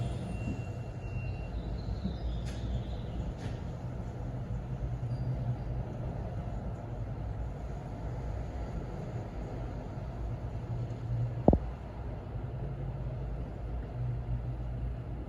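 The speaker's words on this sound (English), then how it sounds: "I kept hearing construction noises, trucks, cars, and other stuff in the background" Steady low broadband rumble of trucks and cars on a distant road near a construction site, with a brief sharp clank around the middle and faint high chirps early on, no talk.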